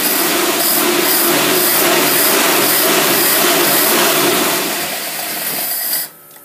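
Small engine running steadily at high revs after being pumped with the throttle, a loud continuous buzzing drone that sags slightly near the end and then cuts out abruptly to near silence.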